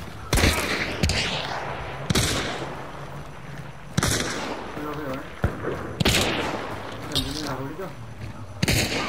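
Gunfire in the video game Hunt: Showdown: a series of sharp, loud individual shots spaced a second or two apart, each with a booming echo, while people talk over them.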